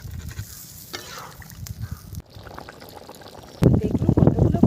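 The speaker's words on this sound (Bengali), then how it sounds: "এবারে আমি জল ঢেলে দেবো" Water is poured into a sizzling spice mixture for a kuche fish curry, the frying hiss giving way to a louder rushing, bubbling surge near the end, with a voice talking over parts of it.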